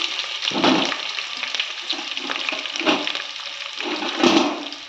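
Chopped green chillies and capsicum fry in a pan for bisi bele bath, a steady hissing sizzle that swells in bursts each time the pieces are stirred.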